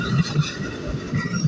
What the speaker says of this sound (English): Oh, another train's on the move.